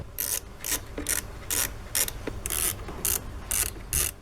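A part removed to disconnect the battery on a Proton Saga Iswara, heard as regular ratcheting clicks from a hand tool, about ten bursts in quick rhythm, close and fairly loud with no talking.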